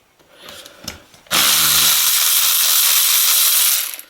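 Air ratchet spinning out 10 mm oil pan bolts on a 2009 Subaru Forester, a few faint clicks and knocks before a loud continuous whirring burst that holds steady for over two seconds, then cuts off.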